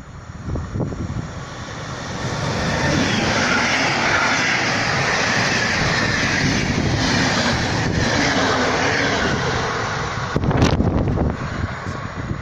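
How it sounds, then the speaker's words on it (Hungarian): International train passing along a railway line, a long steady roar that builds in the first seconds, holds loud and broad, then eases off near the end with a brief clatter. "Vonat érkezik."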